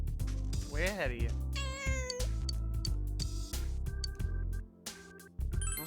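Cat meowing in the video game Persona 4 Golden, a few rising and falling meows over busy game music and sound effects, fairly loud in the mix.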